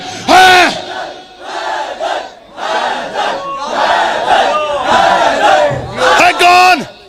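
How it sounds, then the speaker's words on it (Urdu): A religious gathering in Lahore, where a crowd shouts back in unison to a speaker's call with raised hands, loud massed voices rising and falling in several surging bursts. "ہاتھوں کو بلند کر بولو، حیدر ہے۔"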